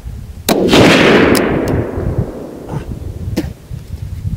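A single loud rifle shot from a TC Compass fitted with a muzzle brake, firing a Hornady 168-grain Z-Max handload outdoors, with a sharp crack and a long rolling echo, followed by a couple of faint clicks.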